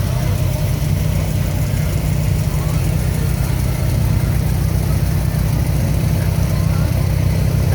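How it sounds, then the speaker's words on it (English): A small tractor engine runs steadily while pulling a float in a small-town midsummer carnival parade, a continuous low rumble under crowd noise and a nearby voice talking. "Charlie Gunderson is pulling the float with his little tractor there."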